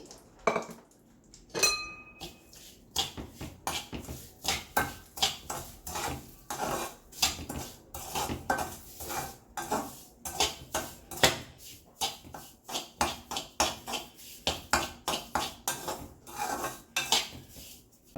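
A spoon stirs and scrapes fried semolina in a metal pot while making halua, giving a dense run of rhythmic clinks and knocks, close and fairly loud, with a few sharper clatters near the start.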